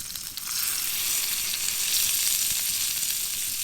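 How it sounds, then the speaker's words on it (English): Food sizzles and fries steadily in a pan inside a heated tent in -10C cold, a close, continuous hiss with no talking. "Some sizzling action, hopefully."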